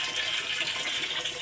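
Steady broadband rush of tap water running, used for mixing garden chemicals, continuous and fairly close with no talking.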